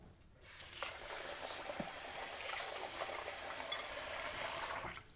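Uncooked delicate rice grains swished gently by hand in a bowl of water, a soft, steady wet sloshing and rustle lasting several seconds, close and alone with no talk.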